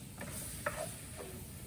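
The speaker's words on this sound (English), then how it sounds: "now I'm back to cooking the sausage" Two pounds of sausage cooks in a pan with a steady, soft sizzling hiss, broken by a few light scraping clicks from stirring, moderately close, with no voices.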